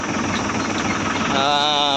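A tractor engine runs steadily throughout, rumbling and vibrating at close range, with a brief rise in a harmonic whine near the end.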